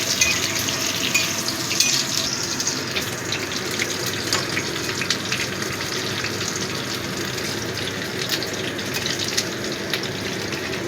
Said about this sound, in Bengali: দিয়ে দিচ্ছি রাঙা আলু। এই 2 মিনিট মতো ভেজে নেব।